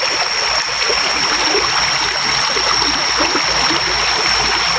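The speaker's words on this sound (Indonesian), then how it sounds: "Ya ini sungai menuju Gunung Petir." A shallow river on the way to Gunung Petir flows along, running at a lowered level, giving a loud, constant rushing and gurgling wash close by with no pauses and no voices.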